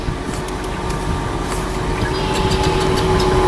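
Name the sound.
repaired vehicle engine running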